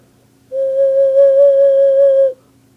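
A single sustained hand whistle, a pure steady tone with gentle vibrato, holds for nearly two seconds at close range and then stops cleanly.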